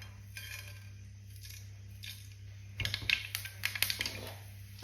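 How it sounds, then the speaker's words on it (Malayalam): Mustard seeds popping in hot oil in a pan, starting as faint scattered ticks and turning into a quick burst of sharp crackling pops near the end, close by. "കടുക് പൊട്ടി തുടങ്ങിയിട്ടുണ്ട്."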